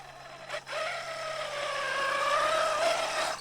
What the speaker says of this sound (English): At least the gears sound good.